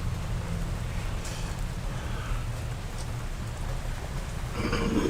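Outdoor rain falls steadily with a low rumbling wash and constant hiss, fairly loud and even, with a slightly heavier burst near the end and no talking.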